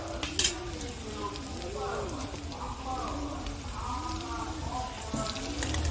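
Potatoes sizzle and crackle steadily in a hot pan while a voice talks over the frying, with a faint clink of utensils, cooking outdoors on a rooftop.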